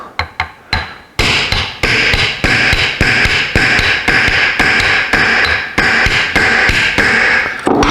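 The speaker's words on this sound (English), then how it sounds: "Do we dare tapping it with a hammer?" A hammer knocks on a stuck fan motor pulled from a Suburban furnace, first a few quick taps and then a steady run of loud, close metallic blows in an even rhythm.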